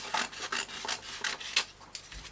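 Scissors cut through paper for a homemade finch nest box: a quick, steady series of dry rasping snips, close and fairly loud, with no voices.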